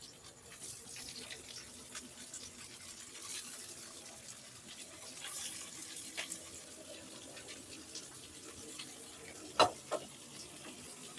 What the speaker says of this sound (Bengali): পেঁয়াজটা একদম লাল লাল করে ভাজতে হবে